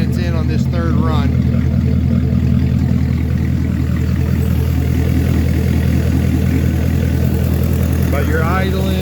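A Gen 6 MerCruiser boat engine idles steadily at around 600 RPM during a run-in, a loud continuous low throbbing hum with a person talking over it.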